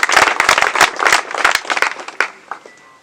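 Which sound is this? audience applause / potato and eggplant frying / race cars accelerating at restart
audience applause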